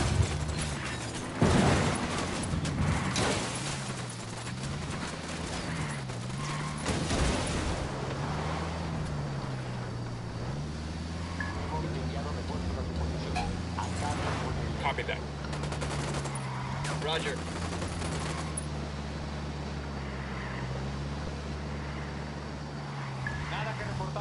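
Sustained automatic gunfire and bursts in a tactical shooter firefight against the Santa Blanca cartel, steady and fairly loud throughout, with a low engine-like drone underneath.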